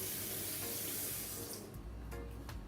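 Running tap water pours steadily while a garlic clove is rinsed under it, a faint close splash that shifts partway through, with no talk.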